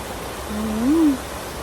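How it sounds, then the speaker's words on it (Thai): Waterfall and flowing water in an outdoor countryside spot: a steady, moderately loud broadband rush of water throughout, with a brief rising-and-falling tonal sweep in the middle and no talk. "ฟังน้ำตก ไหลน้ำ"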